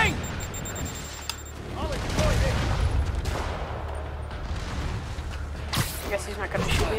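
Gunfire bursts and booms in the video game Marvel's Spider-Man Remastered, loud and continuous across the clip under game sounds, with a player and characters talking over it.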